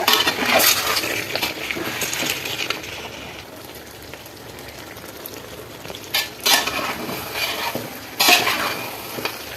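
Chicken pickle stirred in a pan, with a soft oily sizzle underneath and a few sharp scraping strokes of a spoon against the metal, some near the start and two more later on.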